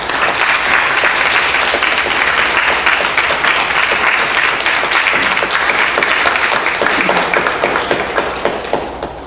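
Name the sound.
audience applause at environmental summit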